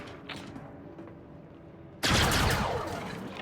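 A sudden loud burst of blaster-style gunfire erupts after a quieter stretch of ambience in Star Wars Outlaws, a dense rapid volley that stays strong and slowly fades, with no talk.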